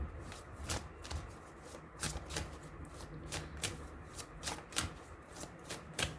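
Oracle cards being shuffled and picked from a deck, with a steady run of soft, close riffling snaps and flicks at an uneven quick rhythm, faint and with no one talking.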